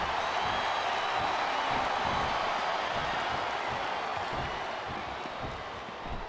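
Arena crowd noise from the WWE 2K25 wrestling game, a steady dense roar of murmuring and scattered cheering that holds for several seconds, fading slightly toward the end, under commentary.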